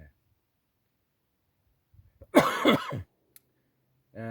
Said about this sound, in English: I've had a irritating cough, bit of a sore throat.